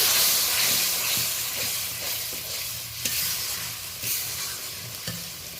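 Fish curry masala sizzles and hisses loudly in a hot pan, with steady frying crackle and a few soft stirring knocks as a little water goes in; no talking.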